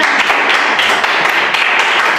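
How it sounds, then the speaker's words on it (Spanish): A church congregation claps together during a Spanish-language service, a dense, loud burst of continuous applause that stays steady throughout. "Dale un aplauso a Dios."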